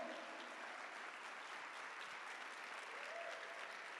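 Church congregation applauding, a steady, even roar of many hands clapping that stays continuous and fairly distant throughout.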